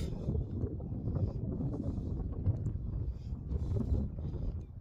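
Outdoor wind gusting against the microphone gives a low, rumbling buffet that rises and falls without a break for the whole stretch, close and moderately loud, with no talk.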